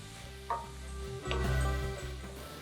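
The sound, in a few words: stirring chicken kanthari masala frying in a pan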